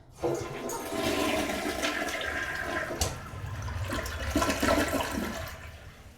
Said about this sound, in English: let's do the good old flush test